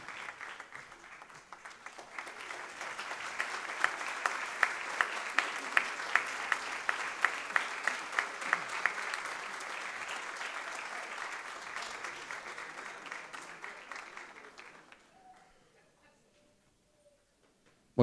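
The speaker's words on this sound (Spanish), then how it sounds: "el aplauso para todos ustedes también que nos han acompañado en este momento tan especial" Audience applauding at an award ceremony, a dense, sustained round of clapping from a sizeable crowd that swells, holds for over ten seconds, then fades to near silence.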